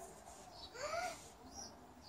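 A baby pigeon gives a single faint, rising chirping call outdoors, short and thin against quiet background hiss.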